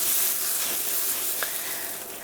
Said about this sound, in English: we're gonna put some butter on the pan. Let that sizzle a little bit.